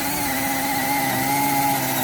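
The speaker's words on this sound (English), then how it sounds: "See if I can get it to drill without the clutch." A cordless drill driving with its clutch disengaged gives a steady, loud, continuous motor whine with a sustained buzzing drone, holding an even pitch throughout with no pauses.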